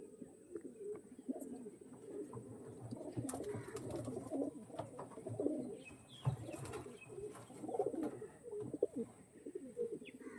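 A flock of Andhra pigeons coos without pause, many overlapping low throaty calls forming a dense, steady murmur close by, with occasional sharper clicks and rustles.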